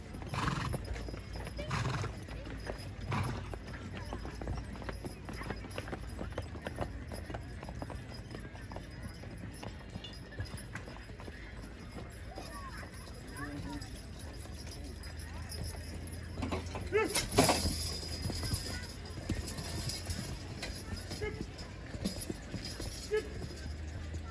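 Horse hooves clop on the ground and a horse whinnies at a horse pulling competition, with murmuring voices and a brief metallic jangle in the background.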